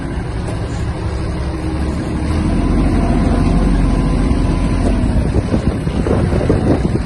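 Kubota GL-240 Japanese mini tractor easing off speed, its steady engine rumble and wind buffeting close to the microphone, the drone shifting slightly toward the end with no talk.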